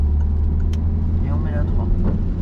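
A car accelerating on the road during a driving lesson, its engine a steady low hum under an instructor's voice.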